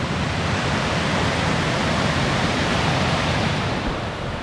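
A waterfall on the Falls Trail at Ricketts Glen rushes in a dense, loud, unbroken roar of falling water, close by and with no other sounds.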